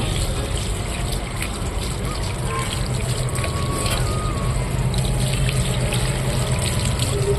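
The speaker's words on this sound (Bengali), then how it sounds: "মাছগুলো ধুতে হবে ভালো করে" Fish being washed under running water, a steady trickling and splashing that runs continuously at moderate loudness, with a faint background hum and no clear speech.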